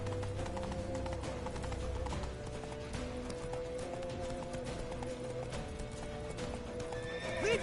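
Horse hooves clip-clop steadily at a gallop in The Witcher 3 on PS4, with whinnies and neighs over a busy game soundscape, loud and close throughout.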